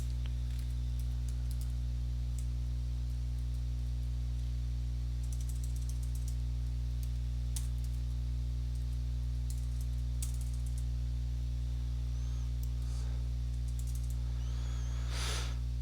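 Light clicks of typing on a computer keyboard come in short scattered bursts over a steady electrical hum, faint and close, with a denser cluster near the end.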